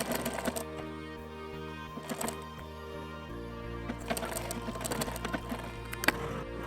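Sewing machine stitching a designer-style blouse, a quiet rapid mechanical clatter running in short stitching bursts, with a steady motor hum underneath and brief pauses between runs.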